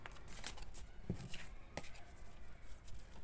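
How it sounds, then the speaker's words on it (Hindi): Tarot cards shuffled by hand for a Libra advice-card reading, giving soft, quiet riffling and papery flicks with a few sharper snaps against a low background hum. "अब देखते हैं आपके लिए एक एडवाइस कार्ड लिब्रा"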